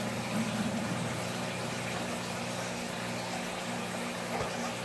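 A pump drawing water out of a large 505-gallon aquarium system during a water change, giving a continuous low hum with a faint liquid gurgle. It is steady and moderately quiet, with no voices.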